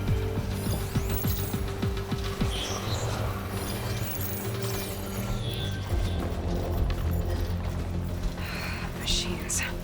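Robot machines in Horizon Forbidden West give off a steady mechanical whirring and ratcheting clatter, dense and continuous throughout, with gear-like clicks layered over a constant hum and a voice speaking over it.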